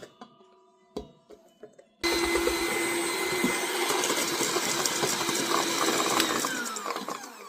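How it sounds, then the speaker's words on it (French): An electric mixer beats sugar for a chocolate moelleux, starting abruptly after a few quiet clicks and then whirring loudly and steadily, close by, with no talk. "Et je commence à battre."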